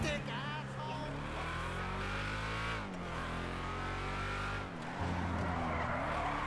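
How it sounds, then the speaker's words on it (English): A loud Vapid Hustler car engine in Grand Theft Auto 5 revs and drones with shifting pitch, rising and dropping between gears, with tire squeal mixed in and continuous high-speed motion. "That's a good sounding car."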